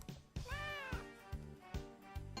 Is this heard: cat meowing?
yes